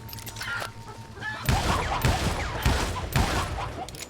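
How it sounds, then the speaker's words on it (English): Sharp bursts of video game gunfire crack out repeatedly as chickens are shot, over a busy, chaotic background, with faint chicken squawks mixed in, close and loud. "Yes, I like shooting chickens"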